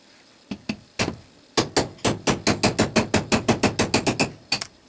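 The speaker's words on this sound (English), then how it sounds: "I'll use a 1/8 inch straight punch. I hope it comes out, and it's all right to use a steel hammer." A steel hammer strikes a 1/8-inch straight punch to drive a pin from a lathe gearbox: a few spaced taps, then a fast, steady run of sharp metallic blows, loud and close.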